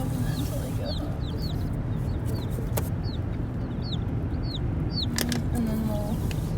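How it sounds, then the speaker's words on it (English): Baby chicks from Meyer Hatchery in a shipping box, making scattered high chirps and peeps over a constant low hum, faint and intermittent. "Oh my gosh, there's little birds."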